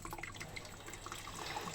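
Water runs steadily from a tap into a container in a home kitchen, a soft continuous splashing with light dripping texture, close and fairly quiet, no voices.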